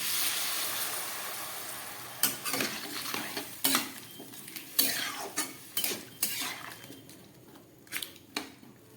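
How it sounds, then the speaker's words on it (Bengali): Water goes into a spiced potato and pumpkin curry in a pan, followed by a low simmering hiss broken by several sharp spoon scrapes and clinks against the pot. "এবার আমি দিয়ে দিচ্ছি এর মধ্যে পরিমাণ মতো জল"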